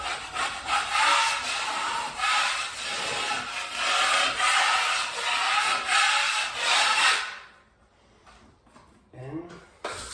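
A broad tool scrapes filler across a wall while repairing old light fixture holes, giving loud repeated rasping strokes for about seven seconds, then a quiet pause with a few faint scrapes.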